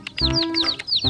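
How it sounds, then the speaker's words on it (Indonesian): Rainbow-coloured chickens clucking close by, a quick run of sharp, rising-and-falling clucks repeated several times in about a second, loud and clear with no talking. "Wow, ayam rainbow, teman-teman. Banyak sekali."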